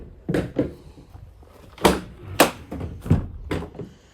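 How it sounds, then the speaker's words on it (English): Rear doors of a 2020 Ford Transit Custom 2.0 EcoBlue Limited van open and latch, giving a series of sharp clunks and thuds, several close together, with quieter handling knocks between them. "So you can see the doors open easily and lock into place."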